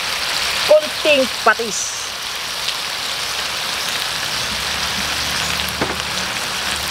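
Spicy adobo with annatto sizzles steadily in a pan, a constant hiss like light rain, while a person speaks briefly over it.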